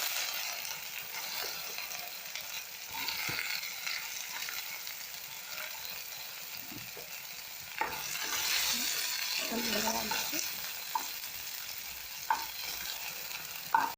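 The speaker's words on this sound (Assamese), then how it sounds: "ঔটেঙাখিনি ভজা হৈ গৈছে" Elephant apple (ou tenga) pieces frying in hot oil in a pan, a steady sizzle with stirring and a few clinks of a utensil against the pan, close and continuous with no talk.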